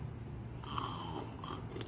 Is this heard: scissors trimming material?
no